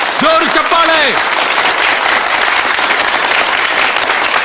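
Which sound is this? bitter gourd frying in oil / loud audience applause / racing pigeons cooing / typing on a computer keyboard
loud audience applause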